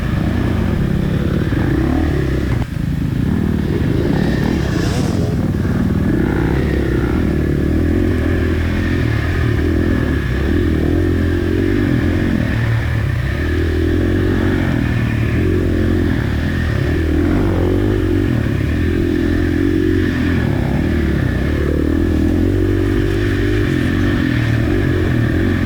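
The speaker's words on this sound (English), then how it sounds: "So Mark, this is a perfect opportunity to rev that engine and get up to these guys" A dirt bike engine drones and revs throughout a hare scramble race in District 14 at Whiskey Creek, loud and close with rising and falling throttle and occasional clatter over rough ground.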